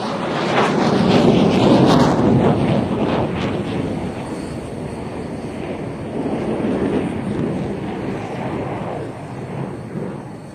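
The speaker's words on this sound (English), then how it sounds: "The F-16 completes the loop and goes straight into its own 360" Roaring jet noise from F-16 and JF-17 fighter jets flying loops and 360-degree turns, loud and rumbling at first, easing slightly and then swelling again as the aircraft pass at a distance, with wind buffeting the microphone throughout.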